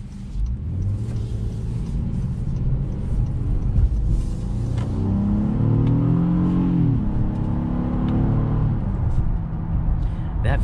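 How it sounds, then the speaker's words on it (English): A 2021 Honda Passport V6 engine revs and accelerates with a deep, throaty rumble, rising in pitch and then settling, heard from inside the vehicle with faint road noise. "That V6 engine just sounds so good."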